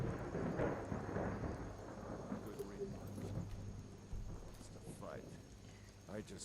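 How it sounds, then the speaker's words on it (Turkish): Steady rain falls under a low, rolling rumble of thunder in modded Skyrim, a continuous stormy wash at moderate volume. "Yağmur azalmış da şimdi tekrardan arttı."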